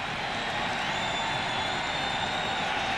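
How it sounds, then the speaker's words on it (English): Baseball stadium crowd at a 1998 National League playoff game between the Padres and Braves, a broad steady roar of cheering that holds at a constant level throughout without any single voice standing out. "this crowd starts to crank it up"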